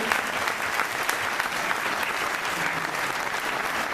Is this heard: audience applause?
yes